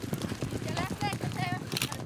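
Horses' hooves clip-clop in a quick, steady rhythm during a wrangler riding demonstration high in the Rocky Mountains, close and lively beneath someone talking and a few bright whistles.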